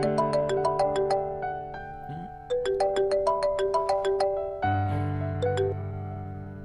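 A melodic electronic phone ringtone plays clearly, a bright repeating sequence of synthesized notes that shifts pitch a few times, with no one speaking over it.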